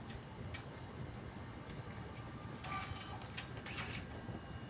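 A pay-and-go kiosk printer mechanism failing to feed paper, giving a faint, steady mechanical whirring with light ticking and a few brief scraping bursts, alone at low level.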